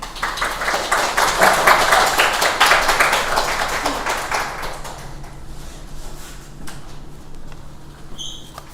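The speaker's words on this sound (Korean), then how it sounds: "우리 따뜻하게 박수로 환영할까요?" A church congregation claps in warm welcome during a Sunday worship service, a dense patter of many hands that swells through the first few seconds, then thins out and fades into quiet room tone.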